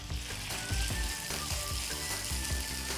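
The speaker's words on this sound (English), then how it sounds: "you're just going to let it cook away there at a nice gentle sizzle" Turbot fillet sizzling gently in a hot frying pan, a continuous crackling hiss with small pops and faint stirring clicks, close and steady with no talking.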